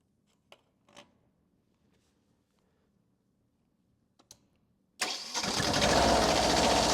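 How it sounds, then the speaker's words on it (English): Generator engine on a Mecc Alte alternator set starting up after a few faint clicks and taps in near silence, then catching and running loud and steady. "Start the engine."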